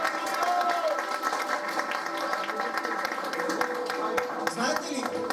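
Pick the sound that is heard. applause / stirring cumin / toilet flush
applause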